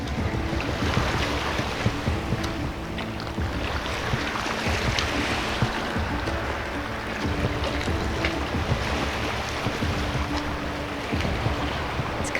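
Sea waves rolling onto the shore as the tide comes in, a constant broad wash of surf mixed with wind buffeting, loud and unbroken throughout, with no talk.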